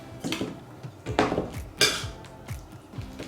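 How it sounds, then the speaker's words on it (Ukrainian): Chopped vegetables with tomatoes and fresh dill are tipped into a bowl and stirred, giving a few close scraping, clattering bursts of utensil against dish with quieter gaps between them. "Висипаємо і розмішуємо."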